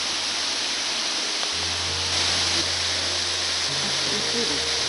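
Mokudo waterfall at Akame 48 Waterfalls in Japan, a steady broadband rush of falling water heard throughout, with faint low voices murmuring now and then in the background.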